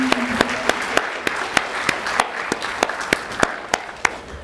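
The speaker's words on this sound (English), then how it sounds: "give them a round of applause for all the hard work" Audience applause at a NAACP Freedom Fund banquet honoring community members, a steady wash of clapping with sharp individual claps standing out over it.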